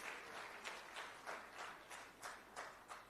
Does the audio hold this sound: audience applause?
yes